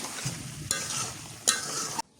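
Food sautéed and stirred in a pan during a rainy day, a dense continuous fry with two sharp scraping strokes of the spatula, then stopping abruptly into near silence.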